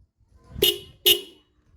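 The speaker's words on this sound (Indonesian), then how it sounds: "Nah ini udah bunyi semuanya, satunya bunyi ya." A car horn, just repaired after sounding weak, gives two short, loud honks about half a second apart with no talk.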